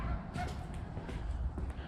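A dog barks and yips a few times outdoors at moderate distance, short sharp calls scattered through the moment with a faint voice in the background.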